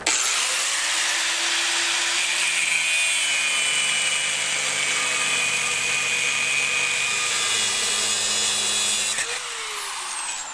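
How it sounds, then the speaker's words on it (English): An angle grinder cuts off a locked trailer hitch on a ranch, powered by a Ford F-150 Hybrid; a loud, steady high-pitched whine with grinding rasp runs nearly the whole time and dips slightly near the end. "got to bust out his angle grinder because our little hitch right here is locked in"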